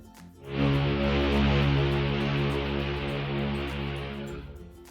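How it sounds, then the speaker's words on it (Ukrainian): An ocean liner's horn sounds one long, deep, loud blast lasting about four seconds before cutting off. "Так, це гудок великого лайнера."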